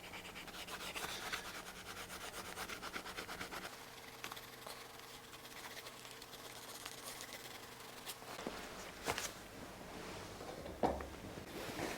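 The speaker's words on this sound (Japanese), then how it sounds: "このロゴ特に温めたりはしてないんですが、直接こすりつけていきます。" A logo is rubbed directly onto the sole of a leather shoe, producing faint, close scratchy strokes that repeat steadily with small pauses.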